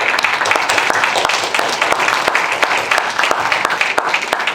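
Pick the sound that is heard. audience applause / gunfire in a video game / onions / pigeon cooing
audience applause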